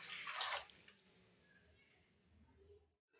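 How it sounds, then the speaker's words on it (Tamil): Water pours into an idli steamer pot with a brief loud splashing gush at first, then fades to quiet dripping and trickling close by before stopping. "இப்போ உலைக்கு தண்ணி ஊற்றிக்கலாம் இட்லி பாத்திரத்தில்."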